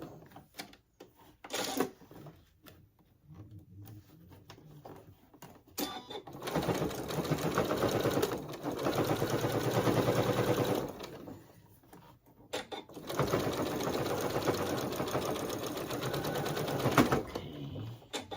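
Sewing machine stitching a fabric bowl cozy, running in several bursts of rapid mechanical stitching, loud and close, separated by short pauses and handling noises.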